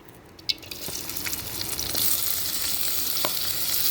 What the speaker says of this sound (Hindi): इस तेल में प्याज और हरी मिर्च डालेंगे और थोड़ा सौते कर लेंगे